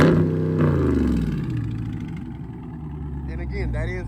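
A Dodge 392 Scat Pack widebody with a mid-muffler delete, resonators and 5-inch tips, its exhaust booming in a deep rev that falls away at the start, then settling into a low rumble beneath someone talking.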